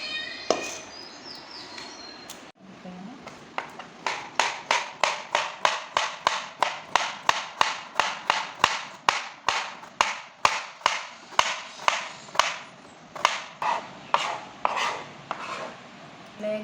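A knife chops vegetables, carrot and capsicum among them, on a cutting board for spicy veg chowmein, with quick, evenly spaced crisp taps that repeat steadily for about fourteen seconds, close and clear after a brief pause.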